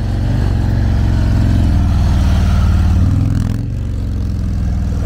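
A newly bought motorcycle on a test ride gives a loud, steady low engine drone with a layered harmonic hum that dips briefly near the end before holding steady again.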